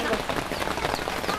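Steady rain pattering outdoors while a man climbs a coconut tree to harvest buko, a dense hiss of drops on leaves and surfaces running throughout at a fairly close, even level.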